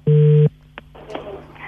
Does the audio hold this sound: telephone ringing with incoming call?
yes